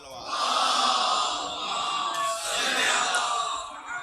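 A big congregation at a Shia majlis calls out salawat loudly together, a sustained roaring chorus of massed voices with slight swells.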